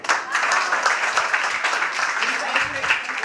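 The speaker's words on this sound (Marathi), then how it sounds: "टाळ्या वाजून जोरदार स्वागत" Audience at an in-house talent program applauding after a song, a dense, steady wash of clapping that holds for several seconds, close and fairly loud, with a voice speaking over it.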